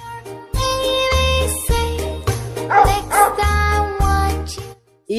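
A few dog barks and yips ring out over an upbeat children's phonics song, loud and close over a steady musical beat with jingling accents.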